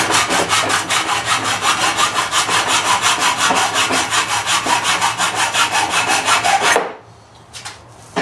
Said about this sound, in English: now I'm just smoothing the edges